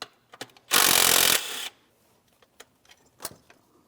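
A 10 millimeter mounting bolt is backed out on a 2015-2025 Ford Transit 250 during an exhaust variable valve timing solenoid job: one loud, steady whirring burst of under a second from a power tool, then scattered small clicks and taps.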